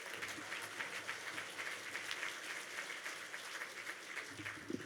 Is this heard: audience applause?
yes